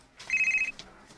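A telephone rings with an incoming call, one short electronic trill burst close by in a quiet room, followed by faint soft knocks.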